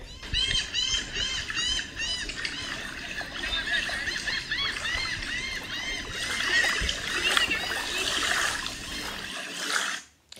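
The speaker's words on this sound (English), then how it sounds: "these are the sounds of a beach" Outdoor shoreline ambience with washing water and a dense chorus of loud, chattering birds, steady throughout before fading out at the end.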